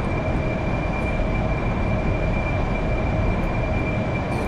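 An AV-8B jet engine roars during takeoff in the DCS flight simulator, a loud, steady, unbroken rush with a faint high whine running through it.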